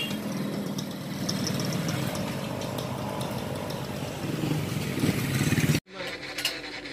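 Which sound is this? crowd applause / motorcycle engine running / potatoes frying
motorcycle engine running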